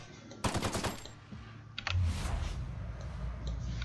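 Gunfire in The Outer Worlds: a sharp rapid burst of shots early on, then a second burst and a lingering rumble, fairly close and without talk.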